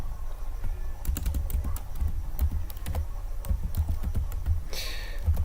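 Rapid clicking of keys on a computer keyboard while text is entered into a Word document, a steady run of close, crisp taps with no talking.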